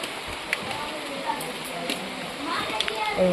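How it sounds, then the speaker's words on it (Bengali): Heavy rain falls steadily outdoors, a dense continuous hiss throughout, with faint children's voices and small clicks in the background. "আজকে প্রচুর বৃষ্টিও হচ্ছে তাই সকাল থেকে আজকে বৃষ্টি হচ্ছে আমাদের এখানে বৃষ্টি পড়ছে"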